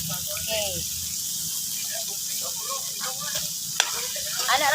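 Papaya sizzles as it is sautéed in a pan with garlic and onion for adobong kapayas, a steady frying hiss with light stirring and a brief clink, as a person talks over it.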